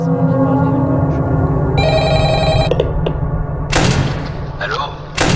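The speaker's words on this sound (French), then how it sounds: "Donc là, on nous appelle." In the video game Five Nights at Agars, a telephone rings with a bright, steady electronic bell for about a second amid background hum, followed by thumps and someone speaking over it.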